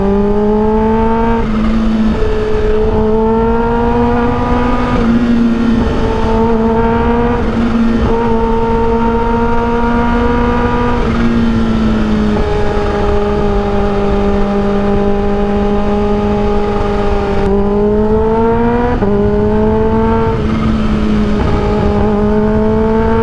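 A Kawasaki H2 motorcycle engine with a short slash-cut exhaust drones loudly and steadily while riding, its pitch climbing and dipping through repeated gear changes, close and without voices.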